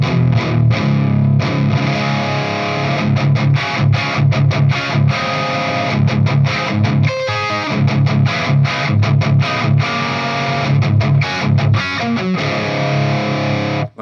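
Electric guitar through a modded 1959 Marshall Plexi amp with Greenback speakers, playing loud, heavily distorted chugging riffs with sharp stops and restarts throughout.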